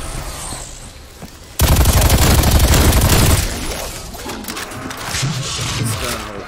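Rapid automatic gunfire from a low-capacity gun in a zombie video game, a dense loud burst lasting under two seconds, then continued clattering game noise with a voice talking over it.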